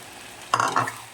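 Fried pakoras for chilli chicken are stirred in a pan, giving two short scraping bursts over a soft, steady sizzle.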